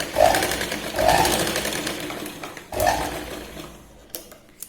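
Sewing machine stitching a katori blouse, running in several short mechanical bursts that rise and fade, close by, with a sharper click near the end.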